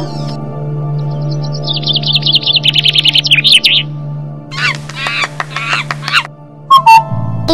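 Koel-like bird song in a Tamil nursery rhyme: a rapid run of bright chirping notes followed by a second burst of calls, heard clearly over a sustained low musical tone.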